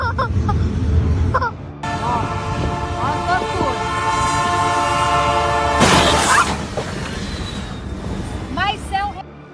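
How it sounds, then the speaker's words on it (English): A CSX freight train's horn blares in long sustained blasts at a level crossing in Tifton, Georgia, before a heavy crashing impact as it strikes a Chick Gatewood beverage truck; excited voices cry out over the noise. "Train hits Chick Gatewood beverage truck in Tifton, Georgia"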